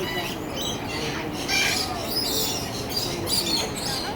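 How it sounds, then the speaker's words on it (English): Lorikeets squawk in a busy aviary at Busch Gardens Tampa, with harsh, overlapping shrill calls against a dense, noisy background of many birds and crowd murmur. "Beautiful bird, lorikeet."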